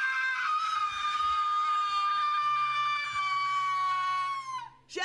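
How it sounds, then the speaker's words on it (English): A ghost's scream from a horror film, a long, loud, piercing wail that holds steady for several seconds, then trails off and falls at the end, with faint background noise underneath. "Oh my god, the ghost scream."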